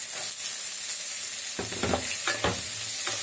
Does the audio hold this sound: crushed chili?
yes